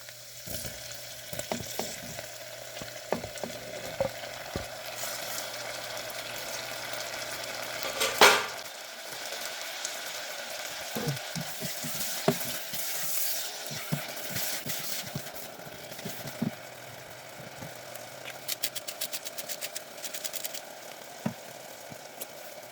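Mackerel, garlic and onions sizzle steadily in oil in a pan, with occasional clinks and scrapes from a utensil stirring the pan.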